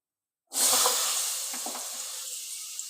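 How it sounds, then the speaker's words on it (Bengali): Diced potatoes drop into hot oil in a wok, setting off a sudden loud sizzle that keeps hissing steadily and fades slightly toward the end. "এবার আলুগুলো আমি দিয়ে দিলাম তেলের মধ্যে"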